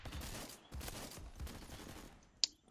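Dense gunfire in the online shooter Phantom Forces, a steady rattle of overlapping shots with a sharp single crack near the end, no talking.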